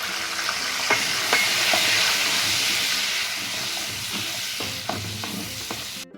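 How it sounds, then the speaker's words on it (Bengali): Prawns fry in hot oil in a pan for a Bengali jackfruit-and-prawn dish, giving a continuous loud sizzle with occasional clicks of stirring. No one speaks. "এই তেলের মধ্যে আমি চিংড়ি মাছগুলোকে ফ্রাই করে নেব।"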